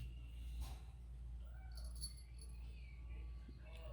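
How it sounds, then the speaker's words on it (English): A cat lying in a bathroom sink on a hot day makes a few soft vocal sounds, close and faint over a steady low hum, with light rustling. "What is it about cats liking to lay in the sink?"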